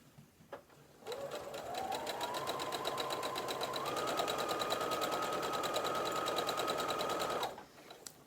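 A sewing machine stitches elastic onto a skirt in one steady, fast run of rhythmic needle clatter lasting several seconds, close and clear, with its pitch rising slightly partway through before it stops.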